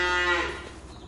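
An Angus cow in the farming video game Farming Simulator 25 gives a single loud, close moo. The call is drawn-out and harmonically rich and fades away over about a second.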